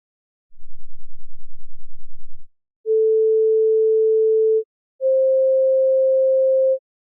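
A 528 Hz sine tone generated in Python sounds as two steady pure tones, each lasting about two seconds, after a brief low buzzing pulse, clean and loud with no voices.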